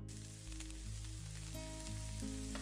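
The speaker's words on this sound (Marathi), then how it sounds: "तपस्याने पॅन मधलं ऑमलेट पलटलं." Omelette frying in a pan, a steady close sizzle under a soft musical background with sustained tones, no voices.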